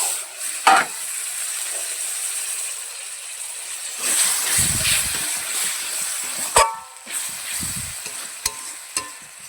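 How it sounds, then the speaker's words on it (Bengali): Masala for a meat curry sizzles and fries in a pan as a little water is added, with bursts of loud hissing steam and scraping strokes of a spoon stirring the thick gravy, all without talk. "এর মধ্যে আমি অল্প পরিমাণে একটু জল অ্যাড করব"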